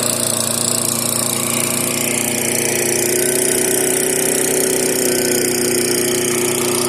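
A vintage Toro lawn mower engine runs rough and stuck at high RPM, a loud continuous close-up drone with a steady buzzing tone and no pauses.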